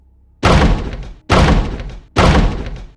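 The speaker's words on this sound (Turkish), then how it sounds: "biyoloji öğretmeninin çelik kapıya defalarca bir sandalyeyle vurduğunu izledim" A chair strikes a steel classroom door three times, each a heavy booming thud with a short ringing decay, spaced under a second apart, close and loud.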